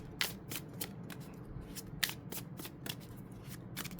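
A deck of tarot cards is shuffled in quick, crisp riffles with sharp papery flicks repeating through the whole few seconds. It is close and soft, with no voices.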